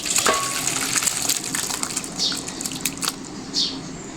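Freshly caught pond rohu fish curry simmering and bubbling in a pan while being stirred, a soft close sizzle with scattered scrapes and clicks of the spoon and no speech.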